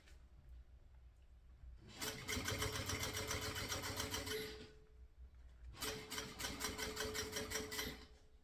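Sewing machine stitching a small mini backpack, running in two rapid mechanical bursts of several seconds each, close and loud, separated by a quiet pause.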